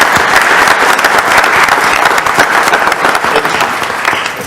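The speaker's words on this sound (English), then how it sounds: "Can we please clap it up for Eric?" Loud, dense applause from the audience at a city council meeting honoring an award winner, sustained clapping that tapers slightly near the end.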